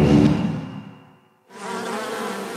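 A bee's insect buzz drones close and fairly loud, fades almost to silence, then returns as a steady hum.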